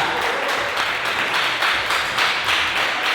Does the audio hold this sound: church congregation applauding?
yes